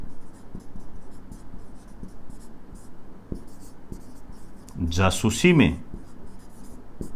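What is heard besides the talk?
writing a line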